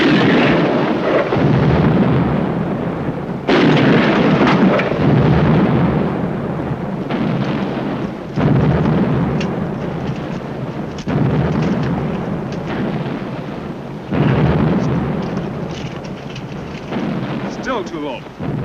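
Nineteenth-century cannon barrages in a 1951 Civil War battle film, booming as repeated heavy blasts about every few seconds, each roaring explosion rolling into a long rumbling decay, loud and dense with shouted voices mixed beneath.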